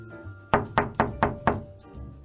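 Five evenly spaced knocks on a house's front door ring out loud and close, rapping at a steady rhythm against a quiet background.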